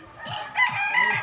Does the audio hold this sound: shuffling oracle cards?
no